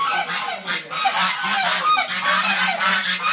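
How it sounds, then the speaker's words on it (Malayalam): Domestic geese kept at home honk loudly and close by in repeated, overlapping calls, several birds sounding back and forth with no one talking. "നമ്മുടെ ഗൂസാണേ, നമ്മളെ വീട്ടിലുള്ള സാധനം."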